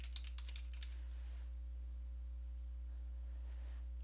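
Rapid keystrokes on a computer keyboard entering a Windows search query, a quick burst of close clicks over the first second, then a steady low mains hum with faint taps.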